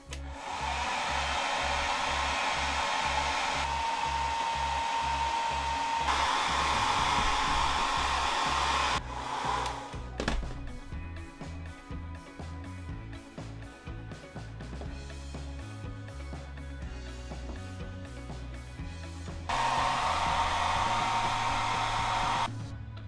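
A heat gun blowing hot air to soften monster clay, a loud continuous whooshing hum that drops briefly mid-way and resumes, with background music playing underneath.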